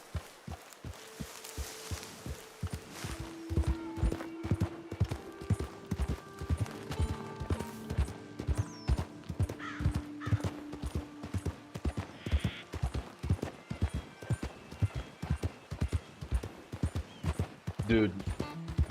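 Steady, rhythmic video game horse hoofbeats clip-clop along a path throughout, moderately loud, with faint game-style ambience and tones in the background.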